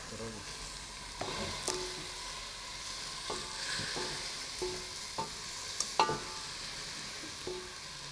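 Pancakes and beans being stirred in a pan, with a spoon scraping and knocking the pan in irregular taps over a steady low sizzle, close and moderately loud.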